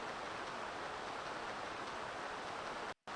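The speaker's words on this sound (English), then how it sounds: "Everyone calm yourselves, it's ordinary rain, not gray or anything else." Rain falls steadily in the role-playing game Dragon Warrior VII, a dense, even hiss of downpour that cuts out abruptly near the end.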